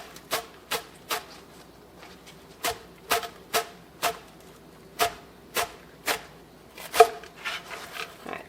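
A knife chops scallions in half on a cutting board: about a dozen crisp, separate knocks at an uneven, unhurried pace, close and fairly loud, with no talking.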